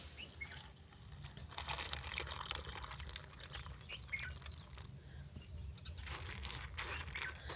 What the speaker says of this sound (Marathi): सोयाबीनमध्ये आपण पाणी टाकून घेऊया.